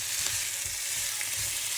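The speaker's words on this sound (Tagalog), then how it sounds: "mag-fry tayo ng chicken wings without oil" Seasoned chicken wings fry in their own fat without added oil, giving a close, dense, even sizzle with soft crackles throughout.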